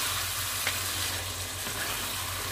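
Meat simmering in its sauce in a rice pot, giving a steady, close sizzling and bubbling hiss that holds even throughout, with no talking.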